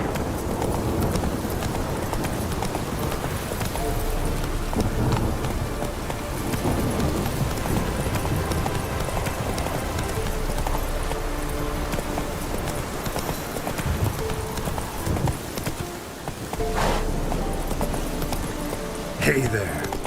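Roach the horse trotting in The Witcher 3, a steady rhythmic clip-clop of hooves close by throughout, with game ambience and occasional speech beneath.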